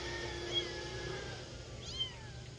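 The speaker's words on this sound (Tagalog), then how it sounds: "Hindi man sila bagong panganak pero kuting pa rin" A thin rescued kitten, past newborn age but still nursing-young, gives a couple of faint, high meows over steady background noise, with a longer rising-falling mew near the end.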